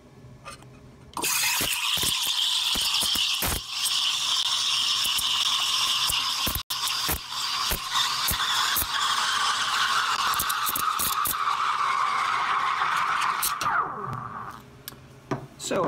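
An espresso machine steam wand froths milk with a loud, sustained hiss and occasional sputtering clicks. The hiss gives way to a falling tone and then stops near the end.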